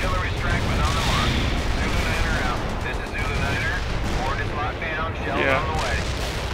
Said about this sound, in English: Artillery strike was on the mark.